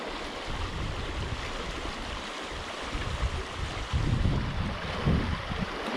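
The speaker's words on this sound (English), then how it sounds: "Running creek," A running creek in the Wombat State Forest on a hot day gives a steady, fairly faint rush of flowing water, with gusts of wind buffeting the microphone now and then.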